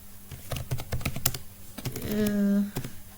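Typing code on a computer keyboard during a JavaScript comments tutorial: a quick run of clicky keystrokes at close range, followed by a brief buzzy tone near the end.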